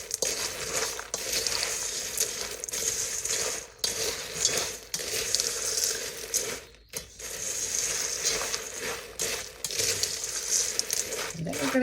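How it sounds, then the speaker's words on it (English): Dry stuffing ingredients with black pepper are stirred and tossed in a bowl, giving continuous scraping, rustling and crunching strokes with brief pauses, close and moderately loud. "So that's my dry ingredients. I'm going to mix this up."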